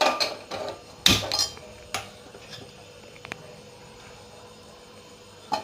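Butter going into a kadai brings a few metallic clinks and knocks of a utensil against the pan, one loud clang early on and softer taps spaced out over a quiet kitchen background.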